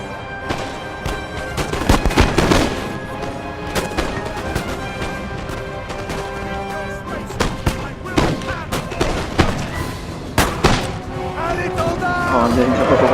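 Volleys of musket fire ring out in Napoleon: Total War, a battle of British troops: crackling bursts of massed shots, some close and some farther off, repeating over a busy field with booming blasts and a voice shouting commands.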